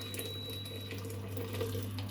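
Tap water runs steadily into a kettle to be used for making soup, a continuous close splashing flow with no pauses and no talking.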